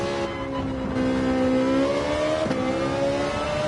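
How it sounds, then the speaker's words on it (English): A race car in Gran Turismo 7 at Suzuka Circuit, its engine tone stepping down through a quick double downshift, a loud continuous whine that dips and blips up again near the end. "At the 50, a quick little double downshift."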